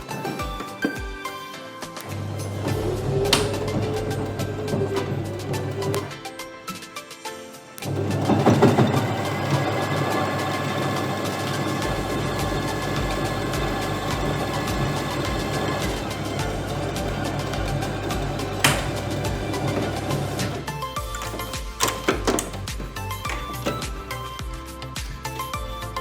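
A Brother JK17B sewing machine stitches a fabric bag, its motor whirring in sustained runs of rapid needle action, with brief pauses between seams.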